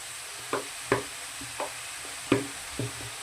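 A spatula stirring vegetables in a frying pan, five or six distinct scraping strokes at a steady pace over a low sizzle.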